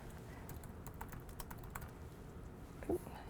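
Quick clicks of typing on a computer keyboard while setting up a drawing tablet, irregular keystrokes close and moderately loud over a quiet room hum, with a brief soft voice sound near the end.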